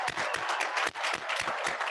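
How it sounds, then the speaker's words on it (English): Sustained applause at a 2021 school commencement ceremony, many hands clapping in a dense, lively burst with brief voices mixed under it. "Let's have one more round of applause for the alumni class of 2021."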